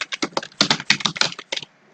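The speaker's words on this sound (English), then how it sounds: "why am I typing so rough?" Computer keyboard typing while coding in Spring, a quick run of uneven clicking keystrokes in short bursts, close and fairly loud, stopping near the end with no talk.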